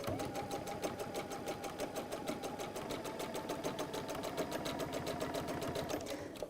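A sewing machine runs steadily while top stitching, its needle hammering in a fast, even rhythm close up and continuing without pause.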